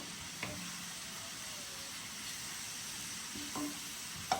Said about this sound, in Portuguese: Eu vou refogar bem essa cebola, né, com esse temperinho bem especial.